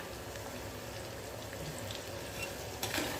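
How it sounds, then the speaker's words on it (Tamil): Single-clove garlic sautéing in oil with mustard and fenugreek for a vatha kuzhambu, a quiet, even crackling sizzle with a few small pops and a brief louder scrape near the end, close and wordless. "இப்போது நான் பூண்டு சேர்த்துக்கிறேன் பூண்டு வந்து நல்லா வதங்கட்டும்"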